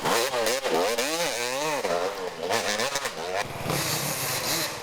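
A KTM 250XC enduro motorcycle at the Rad Dad National Enduro in Westpoint, Tennessee, revs hard, its two-stroke engine note rising and falling in repeated loud, close throttle sweeps before settling into a rougher, steadier drone.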